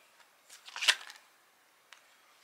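Tarot cards are shuffled by hand in one brief, soft riffling burst in a quiet room, followed by a small faint tap a moment later.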